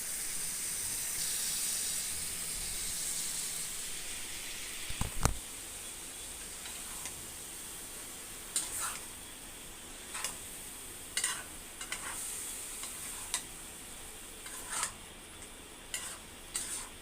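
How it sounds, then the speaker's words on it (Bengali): Eggplant pieces drop into a frying chili paste masala with a short clatter, followed by a soft background sizzle and a string of spatula scrapes and taps at irregular intervals, quiet and close. "এবার বেগুনগুলি দিয়ে দিব।"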